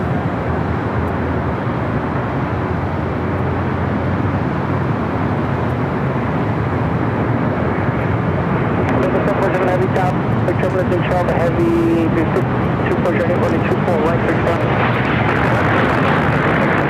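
Asiana Airlines Airbus A350-900 at LAX, a loud, steady jet roar that holds throughout with broadband rumble, while voices chatter faintly underneath.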